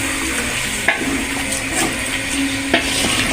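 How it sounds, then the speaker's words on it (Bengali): Biryani mixture being sautéed in a pot, a steady low sizzle with occasional clinks and scrapes of a spoon stirring, close and alone without talk. "এখন আমি এটা কিছুক্ষণ কষিয়ে নেব।"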